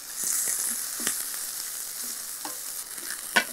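Onions frying in a pan over a high flame, a steady loud sizzle with a few scraping stir clicks, no voices.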